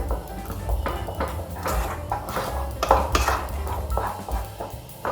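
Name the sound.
spoon pressing lumps in rava kesari in a pan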